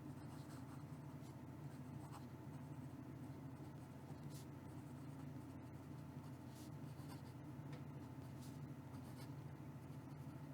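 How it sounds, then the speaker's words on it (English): A PenBBS 323 Black Tortoise fountain pen with a wet, smooth nib writes on paper, making a faint, steady scratching under a low background hum. "Let's do the writing sample."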